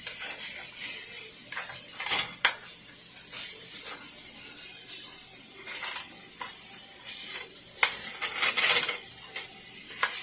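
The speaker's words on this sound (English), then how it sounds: "he's gonna break up the hamburger and get that rolling" Ground hamburger being broken up with a utensil in a pan for a homemade goulash hotdish, heard as soft scraping and intermittent metallic clinks and taps against the pan, moderately close with no talking.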